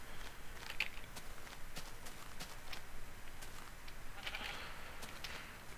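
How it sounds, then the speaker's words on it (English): Sheep bleat in the Minecraft video game, several short calls scattered over quiet background with footsteps, faint and mostly alone. "Seriously, what is with these mass swarms of sheep?"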